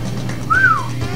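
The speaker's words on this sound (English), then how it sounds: "Whistling? Yeah, the whistle." A person whistling during a Castle Crashers gameplay session, a single short rising-then-falling note, clear over a steady low background hum.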